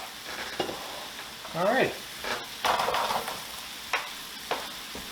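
Shrimp sizzling in a hot pan, a steady close frying hiss with a few sharp spatters and utensil clicks, while someone speaks briefly over it.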